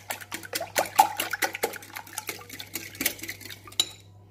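Cake batter made with millet flour and three eggs is beaten in a bowl, a quick run of rhythmic clinks and taps of a utensil against the bowl, close and clear without speech.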